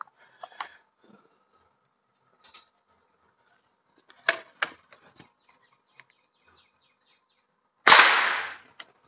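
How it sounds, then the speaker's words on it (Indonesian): A sharp, loud burst of a single shot from a 5000 psi PCP air rifle near the end, preceded by quiet scattered clicks and mechanical handling noises. "satu kali lagi tembakan bonus"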